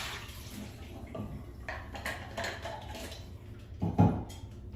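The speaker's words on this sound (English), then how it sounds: "go ahead and pour it down the drain." Photo-flow solution from roll film processing is poured down a sink drain, giving faint splashing and trickling with light clinks of a tank, ending in a louder gurgling splash.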